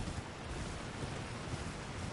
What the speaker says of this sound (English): That waterfall leads to death